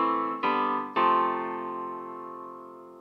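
An FM synthesizer piano layer on algorithm 25, voiced for warm mid harmonics, sounds three sustained notes in quick succession, each a soft attack followed by a long, slowly fading tone, heard alone.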